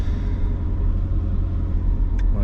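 M113 armored vehicle engine runs with a steady deep rumble, loud and close, with a faint click near the end.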